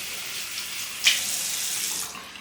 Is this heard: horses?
no